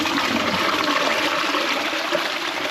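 A newly plumbed toilet in a cottage refurbishment flushes during a test, giving a steady, loud rush of water that continues without a break through the whole moment.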